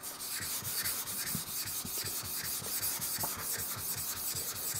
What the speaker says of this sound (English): This stone is pretty hard, so it takes a few strokes to raise a slurry.